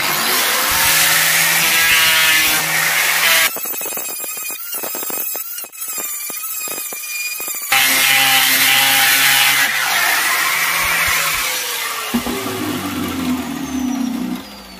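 Wood being sanded thin by hand for a handmade mandolin, a steady close scraping rasp in repeated strokes, with louder harsh bursts in the middle and background noise throughout.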